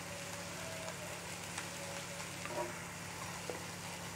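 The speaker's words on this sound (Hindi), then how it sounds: "तो हम इसे फ्राई करेंगे और करीब 1 मिनट तक फ्राई करेंगे" Vegetables for a sandwich filling, seasoned with salt, black pepper and oregano, fry in a pan over high gas with a quiet, even sizzle and a few light clicks, with no talking.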